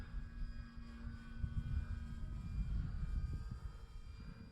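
A radio-controlled scale Tecnam model airplane drones steadily overhead with a thin engine whine, faint and distant, and no one speaks.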